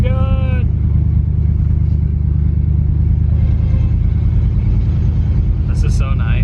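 Ford Galaxie car driving along on a cruise, its engine rumbling loud and constant close by, with voices talking over it at the start and near the end.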